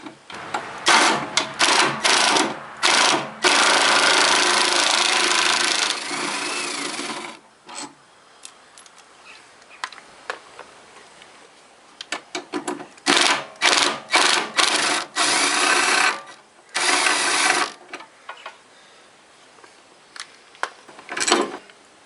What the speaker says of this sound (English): power tools.